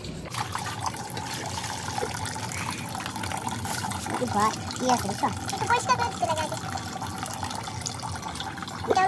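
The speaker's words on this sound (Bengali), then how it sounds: "জিজু আগে মাংসগুলোকে ধুয়ে নেবে ভালো করে।" Tap water runs and splashes while meat is washed for an outdoor Magh Bihu picnic, a steady close trickle and gush that grows busier midway, with voices now and then.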